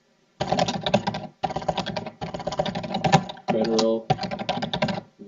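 Rapid keystrokes rattle on a computer keyboard in several dense bursts separated by short pauses, close and fairly loud, with a voice speaking alongside.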